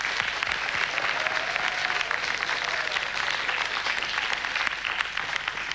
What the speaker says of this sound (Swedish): du får en mycket värmande applåd av publiken